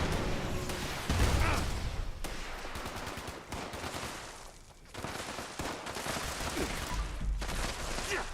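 Explosive-round gunfire in the video game Fallout 76: dense, continuous rapid bursts and blasts that fill the clip loudly, with a brief lull near the middle and faint talking underneath.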